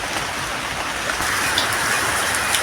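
Rain falls steadily during a fishing outing in Kajoran, Magelang, making a dense, even hiss of drops hitting nearby surfaces with no voices.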